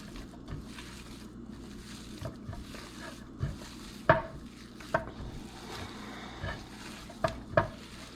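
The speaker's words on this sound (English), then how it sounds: "Just mix it thoroughly." Ground meat mixture for hamburger steak is worked together with breadcrumbs by hand in a bowl, giving soft, wet squelching and stirring sounds broken by a few sharp knocks against the bowl, close and fairly quiet.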